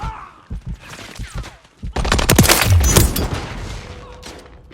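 Gunfire from a shooter video game: rapid bursts of automatic machine gun fire with booming impacts, loud and dense in the second half after scattered thumps and faint voices.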